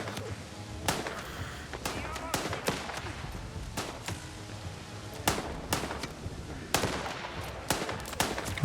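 Sniper gunfire during a battle in the video game Last Train Home: sharp, punchy reports at irregular intervals, some closer and louder, over a steady background of combat noise.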